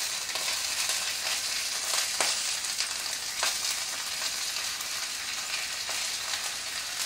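Bacon frying in a pan for a full English breakfast, a dense, continuous crackling sizzle with scattered pops, close and steady throughout with no voices.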